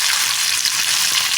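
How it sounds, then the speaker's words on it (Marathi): Coriander, garlic and curry leaves sizzling in hot oil in a pan, a steady bright crackling hiss that holds evenly throughout with no talking. "तेल तापलेलं आहे. प्रथम कोथिंबीर, नंतर लसूण, थोडासा कढीपत्ता आहे"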